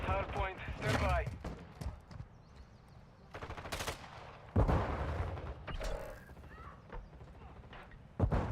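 Gunfire in Call of Duty MW3 multiplayer, bursts of rapid automatic shots and single reports that come and go among game effects, with a voice talking over parts of the action.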